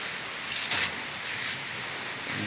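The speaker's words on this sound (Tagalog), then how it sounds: "Napakalakas ng hangin." Strong typhoon wind from Typhoon Ulysses roars steadily at night in Barangay Cuayan, a broad hissing rush with brief stronger gusts, fairly faint and with no talk.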